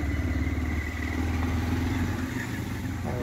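Motorcycle riding along a village road, heard from the pillion seat: a continuous close engine drone with steady rumble and wind noise, no pauses.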